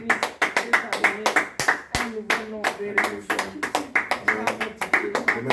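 A church congregation claps in steady rhythmic applause to acclaim the Lord, many hands beating together loud and close, with voices and singing blended in underneath.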